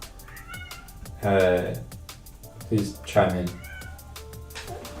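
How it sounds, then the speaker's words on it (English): A cat meows loudly and insistently nearby, three drawn-out yowls in quick succession, while someone talks over it. "Can you hear the cat? That cat is going crazy."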